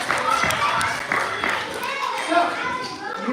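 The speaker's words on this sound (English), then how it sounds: "Give Amaya a round of applause." A small group of children claps and cheers for Amaya, a brief scattered round of applause mixed with excited kid voices close by.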